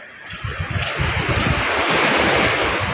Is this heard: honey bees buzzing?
no